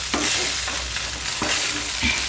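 Paneer fried rice with cabbage, beans and carrot stir-fried in a pan, giving a steady close sizzle with a few sharp scraping stirs.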